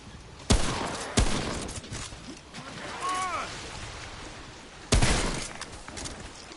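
Pistol gunfire in the video game Remnant: From the Ashes, three sharp separate shots spaced apart over a rumbling game soundtrack with a voice talking in between.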